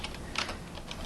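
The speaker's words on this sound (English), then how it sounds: "I'll just go ahead and type my headings." Quick, light keystrokes on a computer keyboard, several close clicks in an uneven rhythm over about a second, with no talking.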